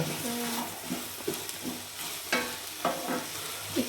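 Food sautéing in a pan, a soft continuous sizzle broken by several stirring scrapes and taps of a spoon against the pan, fairly close, with a little talking.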